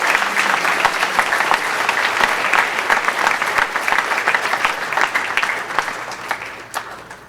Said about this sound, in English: If I could ask you for a second round of applause for the Education Foundation.